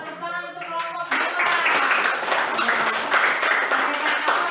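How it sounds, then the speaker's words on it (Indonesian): A student group in a classroom gets applause from classmates, a dense burst of clapping that starts abruptly after a brief voice and holds steady at moderate loudness to the end. "Tepuk untuk kelompok 2."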